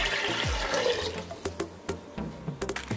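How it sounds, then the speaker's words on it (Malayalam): Water is poured into a cooking pot for ghee rice, measured as six glasses to three glasses of rice, giving a soft, continuous splashing fill with small gurgles, fairly faint and close. "ഇപ്പൊ നമ്മൾ 3 ഗ്ലാസ് അരി എടുത്തുകൊണ്ട് നമ്മൾ ഒരു 6 ഗ്ലാസ് വെള്ളം ഒഴിക്കുന്നുണ്ട് കേട്ടോ."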